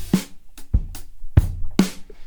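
A punchy drum groove from the UJAM Virtual Drummer Legend software plays alone, with booming kick hits and sharp snare cracks alternating in a steady rhythm over about two seconds.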